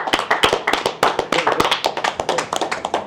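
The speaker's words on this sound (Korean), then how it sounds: "김대중 장관 박수로 모실게요." A small audience at a political lecture claps to welcome a guest to the stage, the sharp, close hand claps landing in a quick, fairly regular rhythm without any voices.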